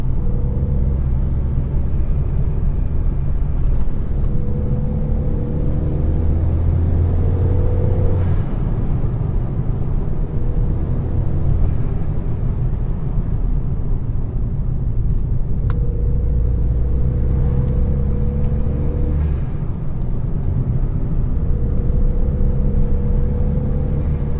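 A Ford Fiesta ST Mk7 fitted with a pod filter pulls uphill in fourth gear at about 60 km/h, its engine a steady, loud droning rumble with shifting harmonic tones throughout, heard from inside the car with no talking.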